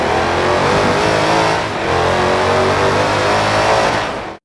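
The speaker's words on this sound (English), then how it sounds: "the sound of the Dodge Challenger Hellcat is awful in Horizon 4" A Dodge Challenger Hellcat engine in the Forza Horizon 4 racing game roars loudly and continuously under hard acceleration, with a brief dip in revs before cutting off abruptly.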